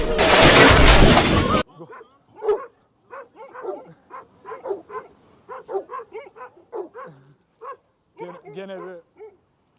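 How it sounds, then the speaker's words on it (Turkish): After a loud burst of noise, dogs bark, growl and yip in quick, irregular bursts, fairly close and loud. "Hırlaşma vakası ama artık tanıdılar Ghost'u"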